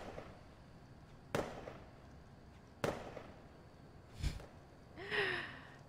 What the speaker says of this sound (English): Just popping the fireworks on the ground.